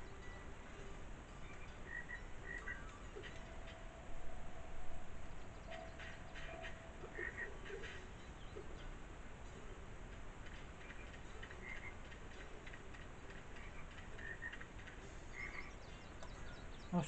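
Frogs croak from a golf video game course near a sand trap, small repeated chirping calls scattered over a steady ambient bed with faint background tones, moderately quiet throughout.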